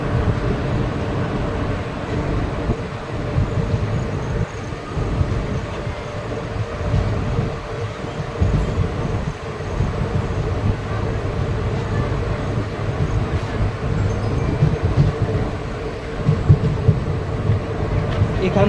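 Mayurakshi Express halting for a minute at Pinargoria station on a hilly Jharkhand line, a continuous low rumble and hum of the train near the platform with faint voices underneath throughout.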